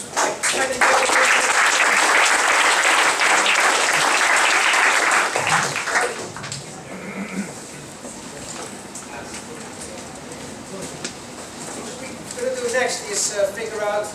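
Loud, dense applause from the audience at Startup Weekend Hong Kong 2012 runs for about six seconds, then fades into scattered clapping and quieter room noise with a voice talking.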